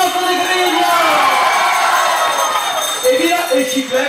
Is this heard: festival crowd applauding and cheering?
yes